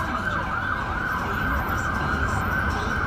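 A loud, wailing emergency siren rises and falls continuously over the low rumble of New York City street traffic in autumn.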